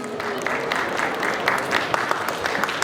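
A live audience at a stage panel discussion applauds the panel members, a dense burst of many hands clapping at moderate distance, steady throughout with a few sharper claps standing out.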